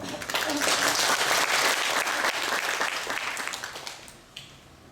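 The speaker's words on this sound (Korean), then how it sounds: "박수를 청합니다" Applause from an audience at a Catholic diocesan laity assembly, dense steady clapping that holds loud for about four seconds and then fades away.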